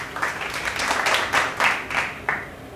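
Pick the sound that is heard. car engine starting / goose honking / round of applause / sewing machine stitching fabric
round of applause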